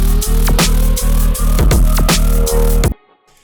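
Drop of a remix, a dense, heavy bass-driven electronic passage with punchy kicks and swooping growls, playing loudly for about three seconds before cutting abruptly to near silence.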